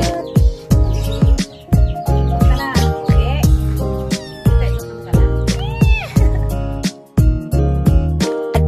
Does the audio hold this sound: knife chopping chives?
no